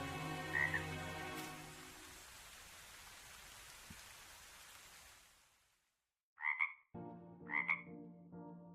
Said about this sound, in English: It's the Council of Frogs.